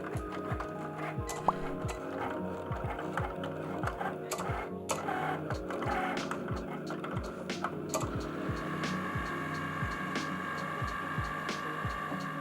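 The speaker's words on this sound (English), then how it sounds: "the Cricut will start cutting out our design" A Cricut cutting machine slices a vinyl design, giving off a steady mechanical whir with a regular ticking, clattering rhythm from the moving carriage, close and continuous throughout.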